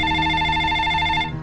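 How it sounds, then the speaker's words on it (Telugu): A telephone rings loud and close, a steady electronic bell tone that holds for just over a second and then cuts off. "ఏంటండి ఇంతసేపు ఫోన్ రింగ్ అవుతుంటే ఏం చేస్తున్నారు?"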